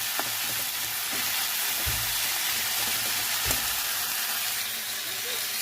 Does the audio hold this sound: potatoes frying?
yes